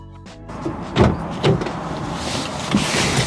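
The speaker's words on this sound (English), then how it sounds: "test the locks. Check to see if the cables move and you can hear the actuator working." A Toyota Corolla car door lock actuator buzzes and clunks several times in short bursts, close up, with mechanical whirring in between.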